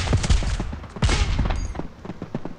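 Gunshots in the FAU-G mobile game in multiplayer PVP mode: a few loud, sharp bursts of shotgun fire, close and punchy, with no clear talk.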